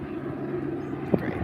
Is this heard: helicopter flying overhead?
yes